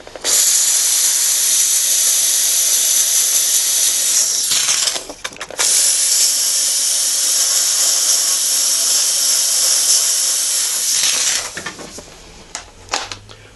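Steam hisses loudly and steadily while dulcimer timber is bent, a broad continuous rush that drops out for a moment, returns at full strength, then gives way to a few clatters and knocks at the end.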